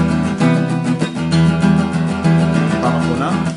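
Guitar plays a shortened section of a song from a lesson, steady strummed chords carrying on at an even level throughout with no voice over them.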